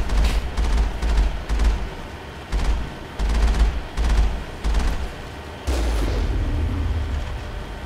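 Gunfire in Mass Effect pounds out in heavy, booming bursts aimed at a distant mountain, several separate volleys with short gaps between them, then a longer rumbling explosion that trails off.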